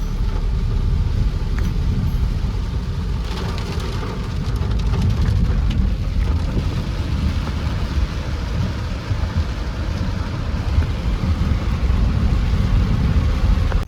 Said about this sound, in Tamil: இப்போ கோத்தகிரி போகிற வழியில் வேறு லெவல் மழைங்க பாருங்க